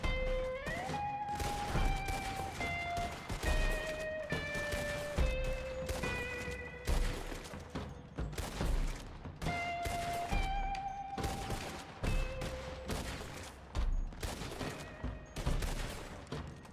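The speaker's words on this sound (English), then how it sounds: "I'm getting shot at from somewhere, but I don't know where." Rapid volleys of gunfire from Red Dead Redemption Online crack out in dense, repeated bursts across a street shootout, loud and close, layered over steady in-game music with no talking.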